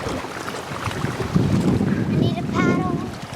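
Strong wind roars across the microphone beside rough, high water at a sailing spot on a busy day, a constant rushing buffet with a brief whistling tone near the end.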